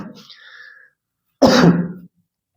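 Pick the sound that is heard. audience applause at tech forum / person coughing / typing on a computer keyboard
person coughing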